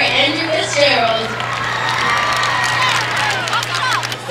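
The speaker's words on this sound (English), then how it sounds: "have a round of applause for Andrew Fitzgerald" A homecoming football crowd cheers and claps for a king nominee, a broad wash of applause, whoops and shouting that swells and holds, with an amplified announcer voice mixed in early.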